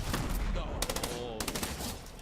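Burst SMG gunfire in a Fortnite solo finals match, rapid clustered bursts of shots cracking over a dense game and commentary mix, repeated in quick groups.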